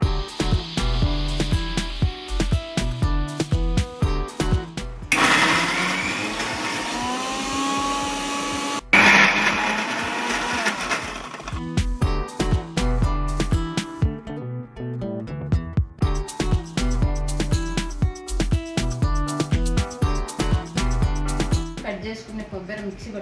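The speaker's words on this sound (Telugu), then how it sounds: "మిక్సీ పట్టుకునేది చూపిస్తాను." Kitchen mixer grinder blending fresh coconut pieces for homemade coconut sweet, a loud whirring motor running in bursts with short stops between, plus a few seconds of speech partway through.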